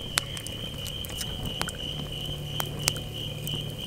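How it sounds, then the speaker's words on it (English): Many crickets chirp in a steady, high-pitched trill at a mountain-top campsite at night, the chorus faint and even with a few sharp pops scattered through it. "Listen to those crickets. There's a lot of them."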